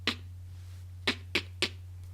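Beatboxed rim-shot snares, a voice imitating a sharp snare, crack as four short, snappy hits: one alone, then three in a quick even run, close and distinct over a low hum.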